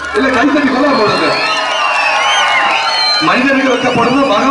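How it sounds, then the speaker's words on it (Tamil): A crowd at a temple song for summoning the goddess lets out loud, sustained ululation (kulavai) with whoops and cheering, many overlapping high wavering voices filling the space continuously. "எல்லாம் கைத்தட்டி கொலை போடுங்க."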